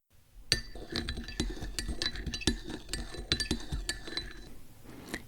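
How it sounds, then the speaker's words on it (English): A spoon stirs tea in a cup at a maid café, sounding as a close series of bright metal-on-ceramic clinks in an uneven rhythm over about four seconds, with no voices. "This is my magic wand to infuse even more magic into your tea with a little stir"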